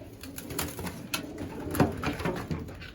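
Racing pigeons coo softly in a loft, with repeated low, throaty calls overlapping at close range, mixed with light wing flutters and scuffling.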